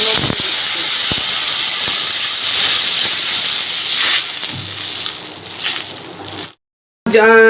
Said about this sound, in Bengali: ওই তেলেই আমি একটু কালো জিরে ফোড়ন দিয়ে দিচ্ছি